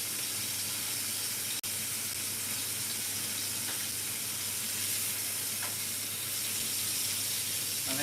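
Steak searing in a hot pan after being turned, a steady close sizzle and hiss running evenly throughout, with one brief sharp click early on.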